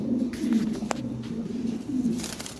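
Black pigeons coo in low, throaty rolling calls, close by and fairly soft, with a brief sharp tap partway through.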